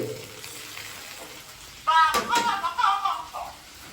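Chicken cooking in a pan for a Jamai Shashthi meal: quiet at first, then a burst of sizzling and frying with stirring clatter, loud and close, while voices talk.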